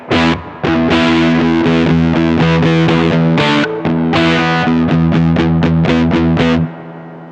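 An electric guitar runs through a Taiga effects pedal, giving loud, thick, distorted chords and notes that sustain almost without a break for about seven seconds before cutting off near the end. No voices.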